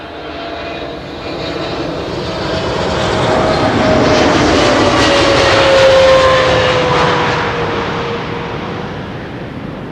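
A large airliner landing on Schiphol's Kaagbaan runway 06 roars steadily, swelling to a loud peak as it passes close and then easing off slightly, with a drawn-out whine gliding lower through the pass.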